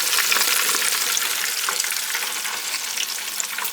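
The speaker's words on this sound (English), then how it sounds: "The rest of them still in there frying." Pieces of chicken coated in flour deep-frying in hot oil, a loud, steady crackling sizzle that fills the whole stretch without pause, with no voices.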